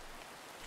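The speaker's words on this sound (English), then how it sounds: "Sitting out the rain." Rain falls steadily in a modded Minecraft world, a soft, even hiss of drops that holds at one level for the whole short stretch, with no voices over it.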